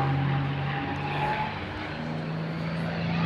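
A P-51D Mustang propeller warbird flying a display in a summer sky, giving a steady droning engine roar that holds at a distance with little change over a few seconds.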